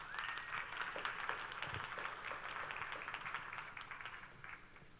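Applause from a conference audience after a talk by speaker Amber at a DevOps event, a dense, steady wash of many hands clapping that carries on for several seconds and tapers slightly toward the end.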